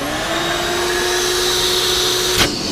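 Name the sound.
shop vac vacuum cleaner running on engine cam cover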